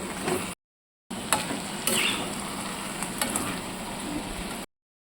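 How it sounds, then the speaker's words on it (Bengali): Spices sautéing with jackfruit in a pan for jackfruit rice, a steady sizzle and frying crackle with scraping stir strokes, close and continuous, briefly cutting out in places. "এবারে ভালোভাবে কষিয়ে নেব।"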